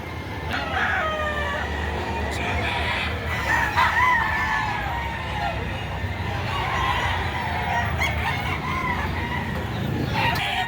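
Roosters crow repeatedly at a busy livestock market where chickens are being sold, several calls overlapping near and farther off above a constant crowd murmur and background chatter.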